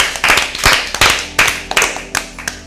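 A small group claps for team B at an Easter Bible quiz, loud close hand claps in quick irregular bursts, about a dozen distinct slaps over a couple of seconds.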